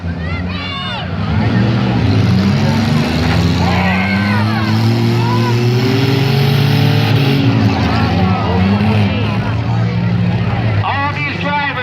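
Demolition derby cars at a 2018 Wayne County, New York heat rev loudly and continuously, engines rising and falling in a dense roar, while an announcer talks over them and a crowd murmurs.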